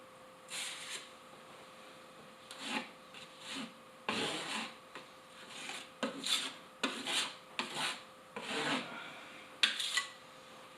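A putty knife spreads and scrapes spackle across wallboard in short rasping strokes, repeated in irregular bursts with pauses between, close and fairly quiet, with no talking.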